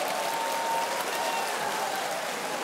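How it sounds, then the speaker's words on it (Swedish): An audience claps for a woman who has just debuted on stage, a sustained, even wash of applause at moderate level with a faint tonal hum underneath. "Ge en applåd!"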